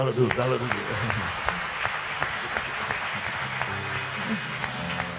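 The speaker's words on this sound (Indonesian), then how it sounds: "ayo tepuk tangan yang luar biasa buat Tuhan lebih dulu" A church congregation applauds with steady, dense clapping throughout, while a voice speaks over it at the start.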